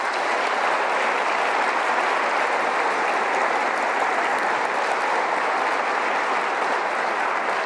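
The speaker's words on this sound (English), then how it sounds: "our Attorney General, Patrick Morrissey, please give him a big round of applause." A large audience at the 2024 West Virginia State of the State address fills the hall with steady, dense applause, a continuous wash of clapping that holds at an even loudness throughout with no talk over it.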